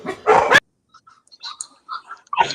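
A dog gives a short, loud bark at the start, followed by quieter scattered yips and whimpers, then a second bark near the end.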